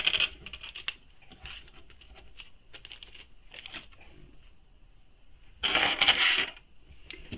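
Metal swivel hooks for a shoulder bag clink and rattle lightly while being handled, with scattered small taps and a brighter jingling burst near the end, close and fairly quiet.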